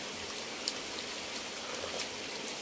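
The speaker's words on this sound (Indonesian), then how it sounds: "Jadi kita di suasana hujan seperti ini sobat" Heavy rain pours steadily on a hut in a rice field, a dense continuous hiss with scattered louder drops, heard alone without talk.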